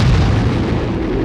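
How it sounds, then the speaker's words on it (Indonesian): A dynamite bomb explodes in the film Tremors, a loud, continuous roaring blast that fills the whole moment with dense rumbling noise. "Sesaat kemudian bom itu meledak dan berhasil membunuh satu."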